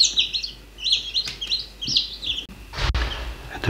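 Chicken on a forest farmstead clucking in a quick series of short, bright calls, fairly close and mid-loud, followed by a few rustling knocks; no talk is heard.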